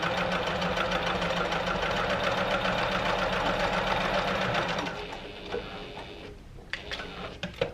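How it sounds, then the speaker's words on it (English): A sewing machine top stitches through vinyl, running in a fast, steady mechanical whir for about five seconds before stopping, followed by a few quieter clicks and handling sounds. "I've got the machine set to a standard top stitching length"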